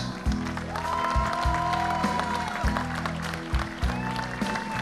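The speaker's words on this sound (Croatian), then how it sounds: "Aplauz za jednu divnu damu, pametnu damu, doktorica Amra Kalač" A crowd claps at a political party's closing convention, an even wash of applause running under loud, sustained music with a steady pulsing beat.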